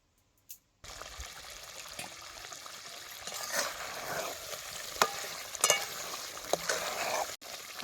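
Stuffed raw green tomato curry cooking in a pot on a wood-fired stove, a soft steady sizzle and bubbling with occasional clinks and stirring, faint and close with no talk.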